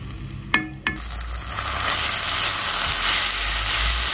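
Ground spice paste hits a hot pan for stir-frying seblak filling, starting with a couple of sharp clinks, then steady close sizzling with stirring; no talk.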